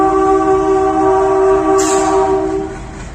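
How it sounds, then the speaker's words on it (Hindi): Loud, sustained multi-tone horn of a WDP3A diesel locomotive departing Bathinda Junction, blaring steadily for about three seconds before easing off near the end, with a brief hiss partway through. "इसकी हॉकिंग की आवाज़ बिल्कुल ही अलग है WDP3A की"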